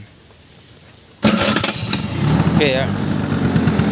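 A Vespa Excel scooter engine fires up on its electric starter after a quiet pause, then settles into a loud, steady idle; someone speaks briefly near the start.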